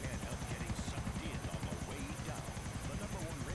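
Helicopter in the video game GTA IV, a steady rotor drone with rhythmic blade chop running loud throughout, with players talking over it.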